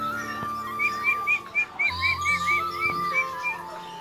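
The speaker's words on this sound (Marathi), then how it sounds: "E danger नाचतोय Popat, नाचणारा Popat" A parrot gives a run of repeated short chirping calls, clear and fairly close, with no voices over it.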